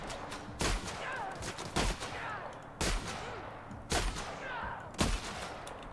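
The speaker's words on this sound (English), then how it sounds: "Shotgun!" Shotgun blasts in The Outer Worlds, five heavy booming shots spaced roughly a second apart over quieter game ambience with faint chirping sounds.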